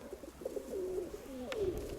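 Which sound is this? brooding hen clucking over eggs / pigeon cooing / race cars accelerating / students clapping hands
pigeon cooing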